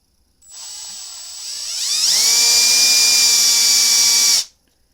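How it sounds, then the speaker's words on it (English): A small high-pitched mini drill whines up, climbs in pitch as it bites into a PS4 controller casing, runs steadily for a few seconds, then cuts off abruptly. "I got this little mini pre-drill, hooked it up, and then started drilling."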